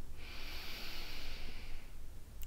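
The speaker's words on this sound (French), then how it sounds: "tu vas inspirer 4 secondes par le nez" Slow, steady inhale through the nose during a box-breathing exercise, a soft airy hiss lasting about two seconds, close and alone with no talk.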